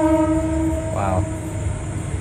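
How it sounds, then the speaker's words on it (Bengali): A passenger train from Dhaka pulls into a station near Cox's Bazar, its loud, steady horn sounding for under a second over the heavy rumble of the rolling carriages, which carries on after the horn stops. "ঢাকা থেকে ট্রেন আসলো"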